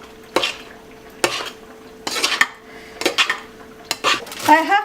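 Meatball mixture being mixed by hand in a dish after water, oil and salt go in, giving several separate clattering, scraping knocks against the dish at irregular intervals, close by and fairly quiet.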